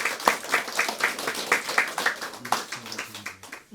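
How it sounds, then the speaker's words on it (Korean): Congregation clapping at a church founding thanksgiving service, lively rhythmic applause building and holding steady, with a few sharp claps standing out and keyboard notes entering near the end. "우리 모두가 함께 우렁찬 박수와 뜨거운 열정으로 함께 우리 축하의 박수를 드리면 좋겠습니다"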